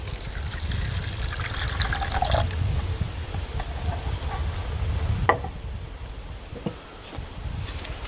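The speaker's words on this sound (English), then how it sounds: "Two cups of water." Water poured from a container into a Mors bushpot for a one-pot chili-mac, making a steady close liquid trickle and splash that fades toward the end, with no talking.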